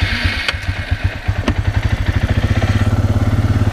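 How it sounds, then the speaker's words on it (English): A four-wheeler ATV engine starts rough, then settles into a steady, fast, close chugging putter that grows more regular as it rides along, with no talk. "So I'll ride the four-wheeler down to the machine"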